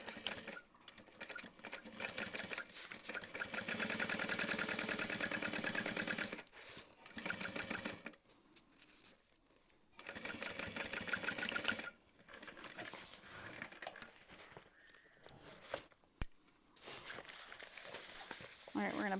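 Sewing machine stitching a seam on an Emma backpack, running in steady sustained bursts with brief pauses between them, close and fairly loud, while a person talks quietly at times.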